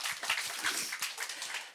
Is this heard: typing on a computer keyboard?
no